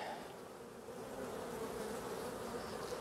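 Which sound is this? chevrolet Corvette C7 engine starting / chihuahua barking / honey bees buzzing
honey bees buzzing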